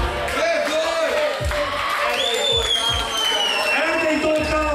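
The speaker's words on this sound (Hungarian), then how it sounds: "Hatalmasnak tapsot kérünk neki!" Crowd at a freestyle rap battle event cheering and applauding the third-place finisher, a loud continuous roar with whoops, whistles and rhythmic clapping, mixed with an amplified voice talking over it.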